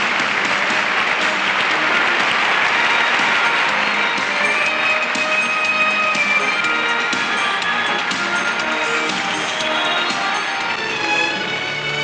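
A large stadium crowd at the Olympic closing ceremony fills the air with dense, continuous applause and cheering, loud and steady throughout with scattered whistles and shouts rising above the clapping.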